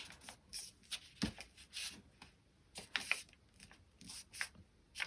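Paper is folded and creased by hand while making a competition paper airplane, giving soft, intermittent crinkles, rubs and sharp swipes up close, quiet and irregular with no talk.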